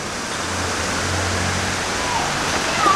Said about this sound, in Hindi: सर्दियों में पानी आ रहा है देखें, और गर्मियों में सुना है ज़्यादा तेज़ हुआ करता है पानी